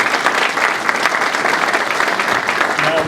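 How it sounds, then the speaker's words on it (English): Steady applause from an audience at a press conference announcing an Amazon fulfillment center in Tracy, California, a dense, even clapping that fills the whole stretch. "I want to give you a round of applause for all that you are doing"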